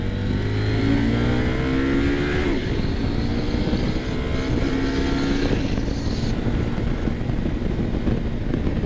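Engines rev and accelerate nearby, a loud continuous roar with rising pitch sweeps as vehicles speed up, steady and dense throughout.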